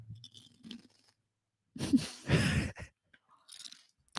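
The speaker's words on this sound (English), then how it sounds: "this is the sound of eating chips" Close, crisp crunching of chips being chewed in a few short bursts, with quiet pauses and faint mouth sounds between bites.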